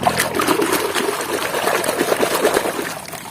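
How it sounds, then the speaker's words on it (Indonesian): River water splashes and trickles as toy trucks are rinsed in the stream, with close, irregular sloshing and dribbling bursts throughout. "Kita bersihkan di sungai ini ya."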